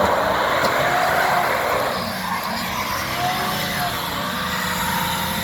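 Car engines of an Impala and a Crown Victoria police car, pushing against each other in a tug of war, roar steadily and loudly throughout, with a rough droning tone and possible tire strain.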